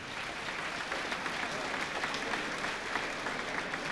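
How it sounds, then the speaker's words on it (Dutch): Hearty applause from a carnival-night audience in Horst, a steady dense clatter of many hands clapping throughout, moderately distant and even in level. "een heel hartelijk applaus voor die Multaler"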